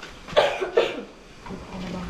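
A person coughs twice in quick succession at close range, followed by a soft, quieter throat sound and faint background murmur.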